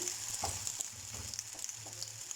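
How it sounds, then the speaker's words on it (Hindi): Soji bread pakora batter frying in oil over medium-low heat gives a close, continuous sizzle with crackling pops throughout and no voices. "ये देखें, मैं इसको फ्राई कर लेती हूँ।"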